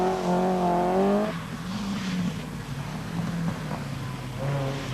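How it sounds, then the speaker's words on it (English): An Opel Ascona rally car at the 1985 Hellendoorn Rally in Holland roars past very close, its engine note loud and strained, then rising again as it draws away with steady mechanical roar. "Through comes the Opel, running as near as possible to our camera"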